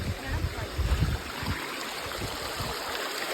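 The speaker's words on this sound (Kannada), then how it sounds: "ನೀರು ಯಾವ ಥರ ಬರ್ತಿದೆ ನೋಡಿ ಇಲ್ಲಿ." Water rushing down Koodlutheertha waterfall near Agumbe, a steady broadband roar throughout, with some low rumbling handling noise near the start.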